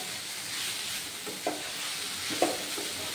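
Banana stem (thor), soft and mostly boiled, is stirred in a pan for a traditional pulao, giving a steady low sizzle with two brief scraping strokes of the spatula, close and fairly quiet.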